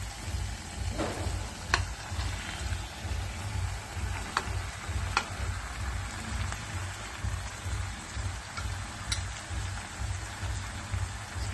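Fish and softened potatoes cooking together in a pan, a soft continuous sizzle with a few light clicks on top and a low rumble underneath, moderately quiet, with no voices.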